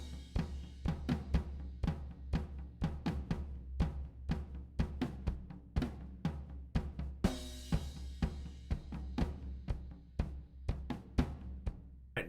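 American rock drum beat at 122 BPM from the Ugritone MIDI pack, played on a default drum kit: a steady, plain groove of kick, snare and hi-hat hits with a cymbal crash midway, alone and clear.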